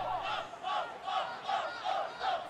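Stadium crowd chanting in a football management video game, a rhythmic, swelling chant repeating about every half second, fairly faint and steady, with no talk over it.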